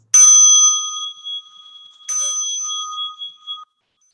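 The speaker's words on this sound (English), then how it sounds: "Let's take a deep breath in and out and listen to the bell." A mindfulness bell is struck twice, a couple of seconds apart, each ring bright and close with a clear sustained metallic tone that slowly fades into silence.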